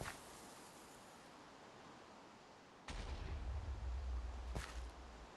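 Explosions go off in the Minecraft video game as two sharp bursts a couple of seconds apart, each followed by a low rumble over a quiet hiss, with no talking.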